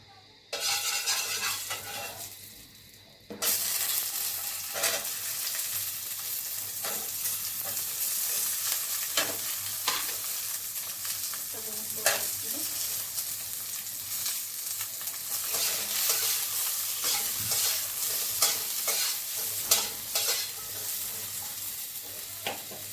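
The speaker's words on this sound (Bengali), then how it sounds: "এবার আমি এই বেগুনগুলো ভেজে নেব" Pieces of eggplant fry in oil with a loud, even sizzle that runs throughout, broken by occasional clicks and scrapes of a utensil against the pan.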